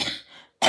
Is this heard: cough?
yes